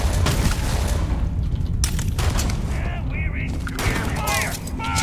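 Gunfire in the game Starfield, a dense continuous barrage of booming shots and blasts, loud and close throughout, with bursts of voice or chatter woven through the second half.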